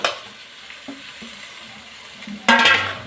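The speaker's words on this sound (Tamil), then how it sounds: "இப்போ நான் வேக வச்சு தோல் உரிச்சு தக்காளியை போட்டுக்கிறேன்." Boiled, peeled tomatoes drop into a hot pan of oil and chilli powder for tomato kulambu, a loud hiss bursting up near the end over a soft background sizzle.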